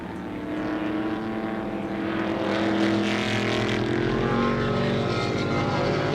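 A big red Camaro touring car racing on a slippery track at Warwick Farm in a 1971 touring car challenge, its engine a loud sustained roar that climbs steadily in pitch as it passes close by.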